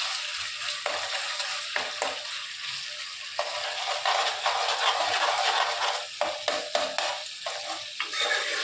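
Chicken with ginger sizzles in a frying pan while being stirred, a steady close-up frying hiss broken by repeated scraping strokes and soft clunks of the utensil against the pan.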